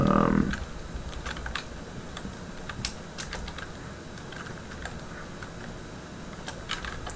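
Fingers typing on a computer keyboard to fill in a web form, a burst of quick clicks and scattered key taps after a brief louder opening noise, close and fairly quiet.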